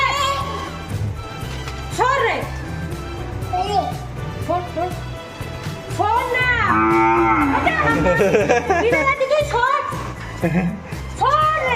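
Several cows moo loudly and repeatedly close by in a rural Bengal farm setting, long drawn-out calls overlapping one another, with people talking in between.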